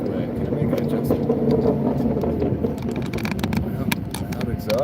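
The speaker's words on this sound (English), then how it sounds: "loud exhaust" A loud car exhaust drones steadily through the whole stretch, with a low rumble under faint voices while driving at night on delivery runs.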